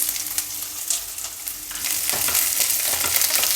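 Onion dropped into hot oil for tempering on a low flame sizzles and fries steadily, the crackle growing louder and denser partway through, with no talking.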